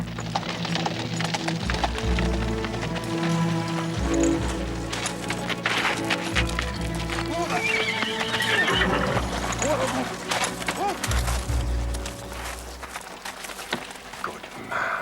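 A horse gallops with pounding hoofbeats and lets out loud neighs and whinnies, with voices and commotion around it in a period drama scene.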